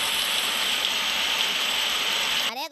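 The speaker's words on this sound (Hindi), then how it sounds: "अरे यार, ये अचानक बारिश कैसे पड़ने लग गई?" Sudden heavy rain pours down in a steady, loud, dense hiss that fills the whole clip, then cuts off abruptly near the end.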